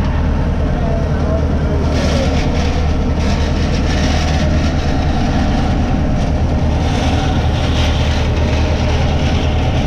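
A Ford 7600 tractor engine runs at a steady hand-throttle setting while making hay, a loud continuous low rumble that holds constant throughout with wind-like broadband noise.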